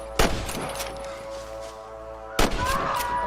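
Two loud, sharp gunshots in the Red Dead Redemption video game, one near the start and another about two seconds later, each followed by a short echoing tail over a low steady background.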